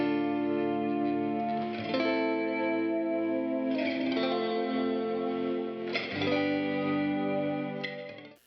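An electric guitar strums chords through a dbx160 compressor, three strums each left ringing for about two seconds at an even level, clear and up close with no talk.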